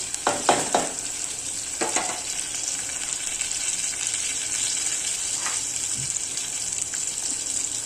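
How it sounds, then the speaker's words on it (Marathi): Cumin, mustard seeds and peanuts crackle and sizzle in hot oil as a tempering, a steady bright hiss with a few stirring scrapes near the start. "जिरी मोरी चांगली फोडणी देऊन घ्यायची"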